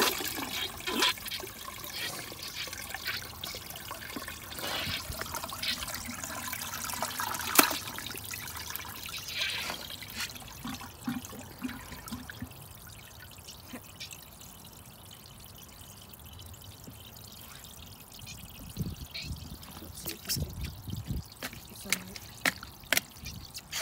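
A household toilet flushing and siphoning, with gurgling, pouring and trickling water that swells and fades in uneven surges, while people talk nearby.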